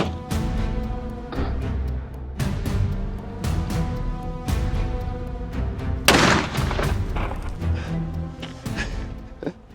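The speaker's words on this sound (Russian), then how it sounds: "Я привязал гранату F1 и сейчас дерну за нее." A series of sharp booms and bangs outdoors around an armored tank after an F1 hand grenade is tied to it and set off, with repeated blasts and loud echoing reports across the stretch.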